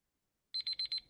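A quiz timer alarm at a live quiz round sounds four short, evenly spaced electronic beeps in quick succession after a moment of silence, clear and fairly loud with nothing else audible.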